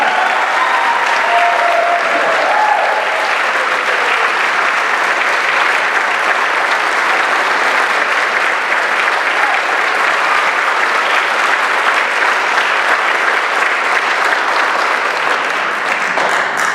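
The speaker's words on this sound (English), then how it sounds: "Let's give our cops and firefighters a big round of applause." A large crowd gives sustained, loud applause for police officers and firefighters at a Milwaukee public safety announcement, clapping steadily and densely throughout.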